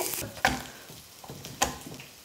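Crushed garlic and salt cooking in hot oil in a pan give a soft, low-level sizzle punctuated by a couple of sharper stirring clatters.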